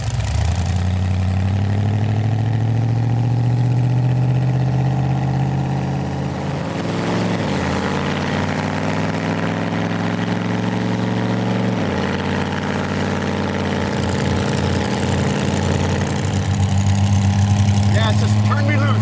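Loud, steady engine rumble from a purple lifted Plymouth gasser, idling and revving close by with a rise and surge partway through, a strong low drone throughout; people talk over it.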